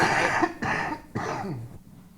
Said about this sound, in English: This cough brought to you by COPD.